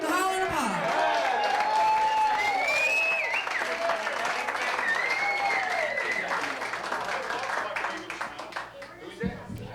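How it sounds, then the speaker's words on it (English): A television comedy studio audience applauds and hollers for a Kazakh cowboy band, with sustained clapping topped by whoops and whistles that rise and fall, easing off toward the end. "Give them a nice round of hoot and holler and applause."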